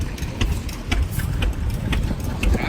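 A miniature Rumely OilPull tractor engine running at a steam show, a steady low rumbling idle with faint rhythmic knocks, heard close amid outdoor background noise.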